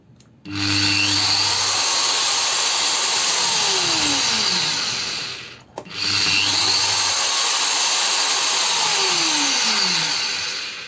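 A GTM WC-125/150/1800 wall chaser is switched on, its motor spinning up to a loud, steady high-pitched whine that winds down and then starts again for a second run, with no talk.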